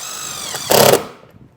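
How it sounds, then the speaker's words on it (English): A power driver sinks a self-tapping screw into vehicle sheet metal: a high, harmonic motor whine builds, then a brief, loud grinding burst lasting under half a second before it winds down. "I'll run a self-tapping screw that's included in your kit through that hole into"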